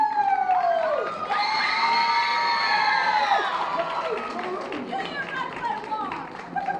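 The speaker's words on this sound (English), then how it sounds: "You guys can cheer for both of them." Children cheering at a youth sports awards ceremony, high-pitched shouts and whoops from a crowd of kids rising loudly and holding for several seconds before tapering slightly.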